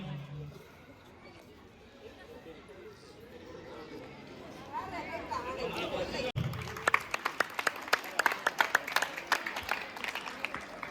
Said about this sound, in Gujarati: જોરદાર તાલીઓથી સ્વાગત કરશું